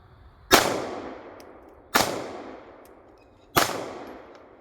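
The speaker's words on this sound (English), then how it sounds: "Locked back like it should, and I hit that 2 of the 3 shots." A BCA Grizzly 9mm handgun with a window-cut slide fires three evenly spaced, loud, sharp shots outdoors, each with a ringing tail that fades before the next, and no one speaks.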